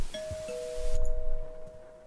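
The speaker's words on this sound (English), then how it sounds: "That was the front doorbell." A front doorbell chimes with two sustained electronic tones, one after the other, ringing on over a low rumble on a stormy night. No one speaks.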